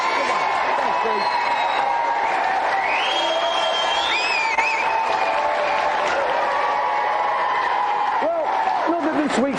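Sustained studio audience applause with cheers and whoops for the winner of a 1993 television games show, dense and even throughout, with voices talking over the clapping.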